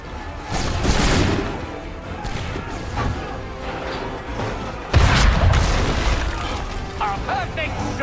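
Gunfire in Assassin's Creed 3 booms out in a sharp, loud report near the middle, ringing over a busy, noisy battlefield backdrop with shouting voices.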